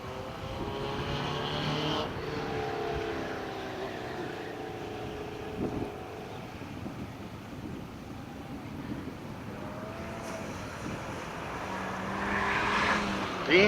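A BMW passes on a race track at a Homestead, Florida track day, heard from a distance as a faint engine drone that swells and fades, with a softer wind-like rush throughout and no talk.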